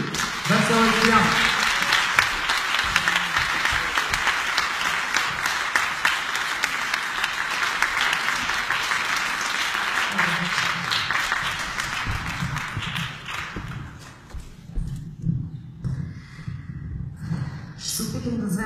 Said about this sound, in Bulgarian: Аплодисменти! Весела и Стоян!